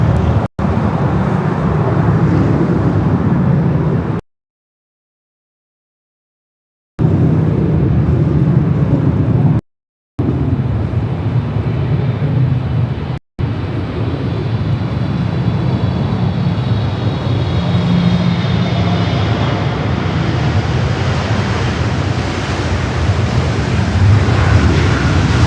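An airliner rolls down the runway at LAX, a loud, steady broadband roar with wind buffeting, broken by a few brief dropouts, then rising engine tone toward the end.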